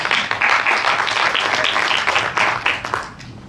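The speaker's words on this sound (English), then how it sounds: "Let's give a big round of applause." Applause from an audience at a transportation technology breakout session welcomes a speaker, a steady wash of many hands clapping close by that fades out near the end.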